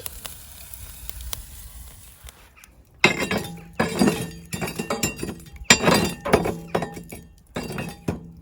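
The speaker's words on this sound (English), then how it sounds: "I'm shoveling the charcoal over to one side" Charcoal scraped and shoveled across a grill grate while grilling oyster steak outdoors, a run of loud clinking, crunching scrapes in uneven bursts after a quieter sizzling start, with no talk.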